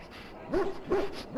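An injured dog in a video game gives three short, soft whimpering yelps at a steady rhythm, fairly quiet and close, with no talking.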